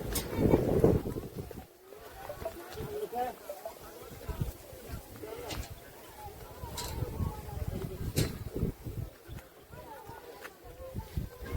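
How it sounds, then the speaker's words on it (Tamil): Strong wind gusting at the Ooosimalai hilltop viewpoint near Pykara, buffeting the microphone in loud, rumbling bursts throughout, with people talking now and then underneath. "மேலே போக போக காற்று அடிக்கிறது கூடுதலாக அடிக்குது"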